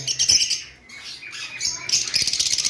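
Red lovebirds in a bird market squawk loudly and shrilly, a nearby flock sending out harsh overlapping calls in quick bursts with a short lull in between.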